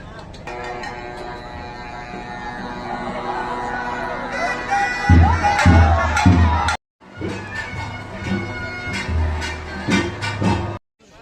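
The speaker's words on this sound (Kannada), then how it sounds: "ಟೆಂಪಲ್ ಬಂದೆ ಗಸ್, ಫುಲ್ ಕ್ರೌಡ್ ಇದೆ" A large crowd gathers at a hometown temple for a daytime chariot festival, with a dense murmur of voices, a few heavy thumps and brief horn-like tones, fairly near and moderately loud.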